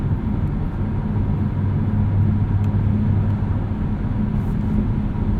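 A 2023 Jaguar F-Type R Coupe exhaust rumbles low and steady while driving, heard from inside the car as a continuous droning hum with little wind noise, even and unbroken throughout.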